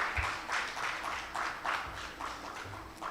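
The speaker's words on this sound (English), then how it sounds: "Clap." Faint, rhythmic applause from an audience at a conference, with soft, evenly pulsing bursts of clapping that repeat throughout.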